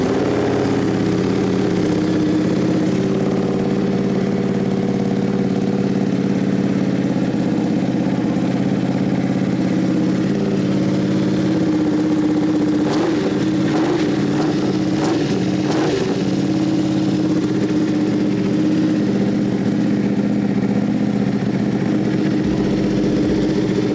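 A Ducati Panigale superbike with emissions and evaporative deletes idles loudly and steadily close by, its rough engine drone holding throughout with a few brief throttle blips partway through.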